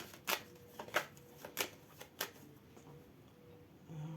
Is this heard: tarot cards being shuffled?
yes